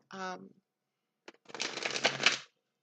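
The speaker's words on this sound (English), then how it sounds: "you're going to hear me doing the shuffling now" Rapid papery riffling of tarot cards being shuffled, a brisk burst lasting about a second, preceded by a short voice and a faint tap.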